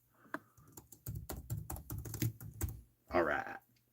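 Quick bursts of clicking keystrokes on a computer keyboard, close and uneven in rhythm, with a brief voice near the end.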